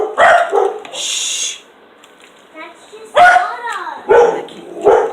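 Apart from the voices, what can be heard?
dogs barking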